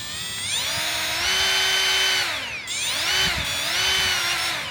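Hercules brushless right-angle die grinder spinning up to a smooth, high-pitched whine, dipping briefly as the trigger is eased around the middle and then revving back up, loud and close, with no talking.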